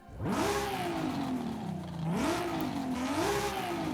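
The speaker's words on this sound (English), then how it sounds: "Revs up very, very quickly" A Forza Horizon 5 Nissan car engine, a 1,200-horsepower 2JZ swap, revs hard, climbing and dropping in pitch in quick repeated surges, loud and close.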